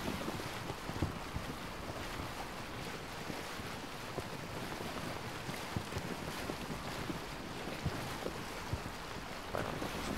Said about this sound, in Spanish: Vamos a probar la embarcación esta. Vamos a cruzar por el río Mariotis, el lago,